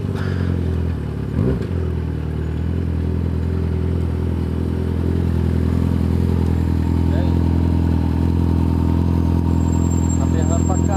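A Honda CBR 600 sport motorcycle engine runs loud and close, holding a steady, droning harmonic roar throughout, with voices talking in the background.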